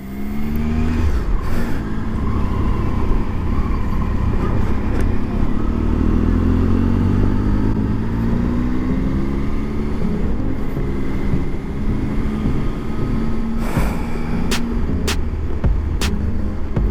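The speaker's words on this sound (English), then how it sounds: "So just taking the bike out for a spin." Triumph Tiger 800 motorcycle cruising on a highway, its engine droning steadily throughout with shifting pitch as it accelerates, under constant rushing wind noise and a few brief clicks near the end.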